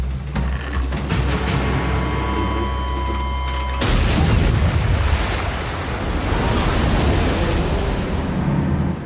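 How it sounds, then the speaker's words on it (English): Cannon fire at sea against a ship in a World War I naval attack: a low rumble, then a sudden heavy boom followed by a long, loud roaring wash like surf and debris, with no voices. "and sank their ship with our cannon."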